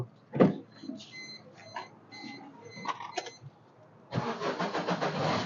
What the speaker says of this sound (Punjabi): ਗੱਡੀ ਸਟਾਰਟ ਕਰ ਲਈ